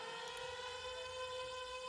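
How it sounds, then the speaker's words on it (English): A siren wails steadily at a constant pitch, sustained and fairly distant, with no voices over it. "a siren begins to go off"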